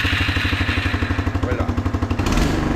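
An Arctic Cat snowmobile engine runs after a jump start, its loud, close, rhythmic idle pulsing in rapid even chugs that roughen briefly near the end, with a single short spoken word.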